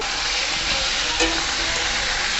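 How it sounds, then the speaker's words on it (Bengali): Potatoes and radish fry together in a pan, making a steady, close, hissing sizzle with a brief stirring scrape midway, with no talking. "এবারে আলু মূলো সব একসাথে দিয়ে ভেজে নেবো"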